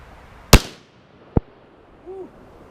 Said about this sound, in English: see if I can hit anything with this 22 mag pistol here